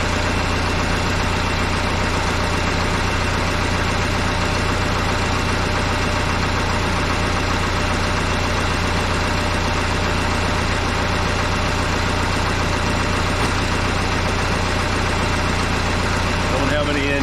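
Diesel engine of a Case 188D tractor idling steadily just after its first start-up, a loud, even low rumble with a constant knocking beat and no changes in speed. A voice is heard briefly at times.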